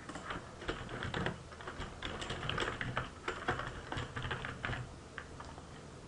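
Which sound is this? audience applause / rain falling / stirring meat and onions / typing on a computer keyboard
typing on a computer keyboard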